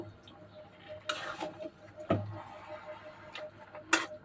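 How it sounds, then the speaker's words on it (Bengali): A spoon stirs a large batch of chalta (elephant apple) pickle, about three kilograms, in a pot, giving a few scattered scraping and clinking knocks against the metal amid quiet, with no talking. "এখন নাড়তে বেশি সমস্যা হচ্ছে না"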